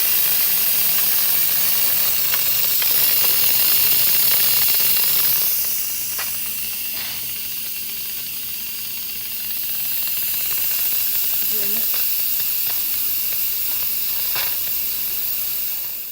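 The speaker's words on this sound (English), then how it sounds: "open the vent so the steam can be out" Steam hisses loudly and steadily from the vent of a pressure cooker, dipping slightly midway before surging again, with faint mechanical clicks underneath.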